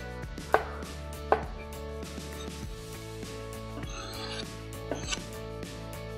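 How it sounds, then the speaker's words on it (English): A knife chops through an omelette on a board while long-grain rice and prawns cook nearby, giving two sharp, loud knocks early on, then a few softer cuts later over a steady background hum. "We're going to cut up the omelette."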